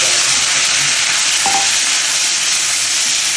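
Cumin seeds and figs tempering in a hot pan give a steady, loud broadband sizzle with a brief stirring scrape midway, no talk over it.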